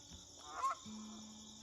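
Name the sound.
flock of honker geese honking in early morning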